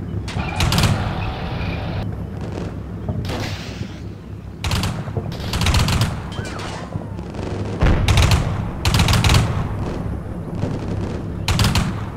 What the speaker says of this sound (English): my forces quickly gained fire superiority and returned fire, neutralizing the contacts